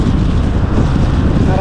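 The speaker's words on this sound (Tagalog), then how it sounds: "ang lakas po ng hangin" Strong wind buffets the microphone during a night bicycle ride around Punggol Park, a steady, loud low rumble of gusts filling the short stretch with no pauses.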